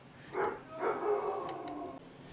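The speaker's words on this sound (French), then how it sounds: "il fallait que j'aille régler une situation de chien qui jappe pour rien" A dog barks twice and then lets out a drawn-out howling whine, moderately loud and fairly close, with no talking over it.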